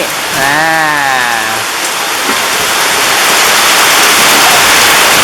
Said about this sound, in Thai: นี่ฝนตกที่ชุมพร